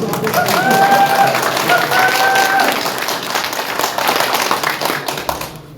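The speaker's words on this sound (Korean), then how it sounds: "동의하신다면 우리와 같은 박수를 쳐주십시오" An audience at a lecture on North Korea's nuclear weapons and South Korea's response claps loudly and densely in agreement for nearly six seconds, with a voice sounding over the early clapping before it gradually thins out.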